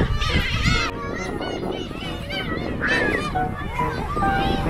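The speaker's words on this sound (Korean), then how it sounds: "와, 저 새들 많다, 그치? 갈매기들." Many seagulls call in honking, overlapping cries outdoors, loud and busy throughout, with voices talking in the mix.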